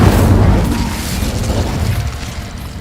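An Incendio fire spell cast in a video game erupts in a loud, low whooshing roar right up close, a full-bodied burst that slowly fades over a few seconds.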